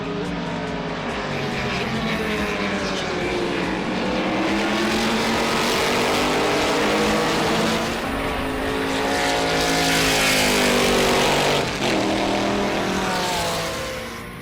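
A Mercedes-Benz 300SL Gullwing races at Watkins Glen in a pre-qualifying race, its engine roaring loudly and rising and falling through gear changes as it drives hard, close and continuous with no talk.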